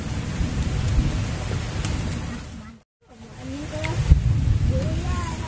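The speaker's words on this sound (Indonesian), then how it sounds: "Oke guys, hujan guys" Heavy rain pouring at a campsite, a loud hiss with low rumbling that breaks into a brief silence, then the downpour returns along with a few faint bird-like chirps.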